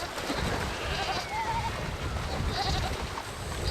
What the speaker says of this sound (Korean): 염소가 질질 끌려 강을 건넙니다.